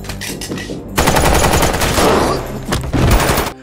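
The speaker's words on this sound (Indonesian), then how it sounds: "Alec menyerang para polisi hingga terjadilah aksi tembak-tembakan" Rapid gunfire from a shootout between an attacker and police in an action film, with dense bursts of automatic shots that carry on loudly through the clip after a quieter opening.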